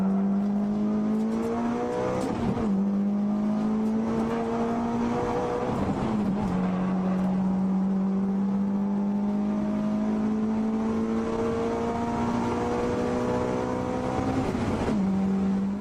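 An engine holds a steady droning note as a car drifts after a handbrake pull, with the pitch rising gradually and dipping briefly at regular intervals as it shifts, continuous and fairly loud throughout.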